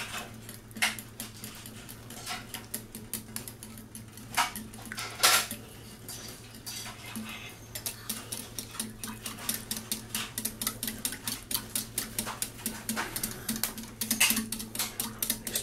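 A small whisk clatters against a bowl while marshmallow brownie mixture is stirred, giving a fast, steady run of light metallic clicks and taps over a low hum, with no talking.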